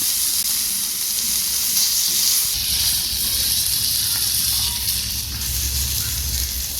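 Fish masala chicken fry sizzling in a pan over medium heat, a continuous bright hissing crackle of oil that holds steady throughout, close and loud with no voices over it.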